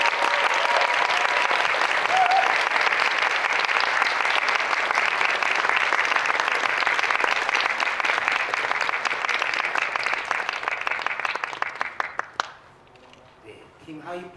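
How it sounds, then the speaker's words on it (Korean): An audience at a Korean film screening Q&A applauds loudly as the director and actors walk in. The sustained, thick clapping runs for about twelve seconds, then tapers off into a few scattered claps. "박수 부탁드립니다"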